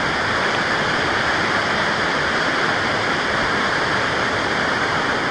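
A three-tier waterfall roars steadily at close range, a loud, unbroken rush of falling water with no voices.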